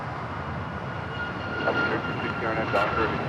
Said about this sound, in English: This is Alaska Airlines 1418 taking off to Guadalajara on the MAX 9